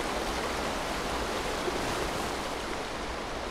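Loud, steady rush of flowing water in the video game A Quiet Place: The Road Ahead, a dense continuous roar like a stream or waterfall filling the whole moment with no pauses or voices.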